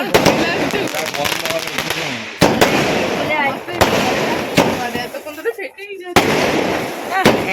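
Fireworks bursting at a night-time reception party, a rapid continuous run of sharp cracks and pops with several louder booms, close and loud, with people talking and exclaiming throughout.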